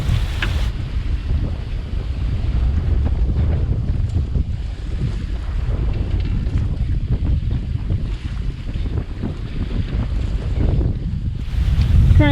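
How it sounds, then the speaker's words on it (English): Squall wind at sea off St Martin roars steadily over a sailboat, loud and buffeting the microphone, with rushing waves beneath and no talking. "We got a nice little squall coming, so time to get wet."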